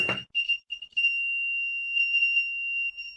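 A homemade battery-powered simple door alarm sounds a shrill electronic tone, starting with a few short chirps and then holding a steady, loud, continuous beep with no one talking.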